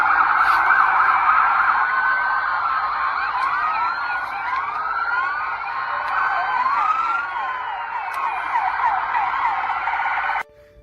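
Police car sirens wail and overlap at Bayside mall in Miami, with many cruisers responding, their loud rising and falling tones weaving together continuously before cutting off abruptly near the end.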